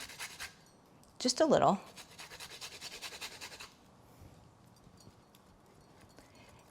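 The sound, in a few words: grating fresh ginger onto yogurt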